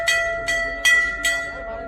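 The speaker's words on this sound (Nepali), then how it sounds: "घण्टी बजा घण्टी घण्टी" A bell at the Ghantaghar clock tower in Kathmandu strikes four times in a steady rhythm, each stroke ringing out bright and metallic before it decays. No voices are heard between the strokes.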